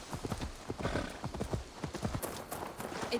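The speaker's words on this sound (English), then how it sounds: "Oh, she get her own horse." A horse's hooves clip-clop in a quick, steady rhythm across ground in Assassin's Creed Valhalla, close and clear, with a brief whinny near the end.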